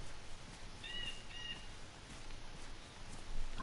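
A bird in the DayZ video game gives two or three short, faint chirps over a quiet, hissing outdoor ambience.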